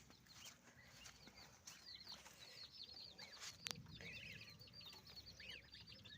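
Scattered bird calls and soft honking from geese outdoors after a thunderstorm, with flapping and rustling, a steady damp ambience of light rain beneath.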